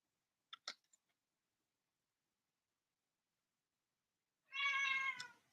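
A cat gives one clear, fairly loud meow near the end, preceded by a few faint clicks in an otherwise quiet room.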